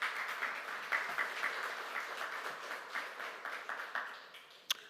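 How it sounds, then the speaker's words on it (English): A crowd at a government house closing ceremony gives the interns a round of applause, steady mid-distance clapping that slowly thins, ending with a single sharp clack. "Let's give them a round of applause again."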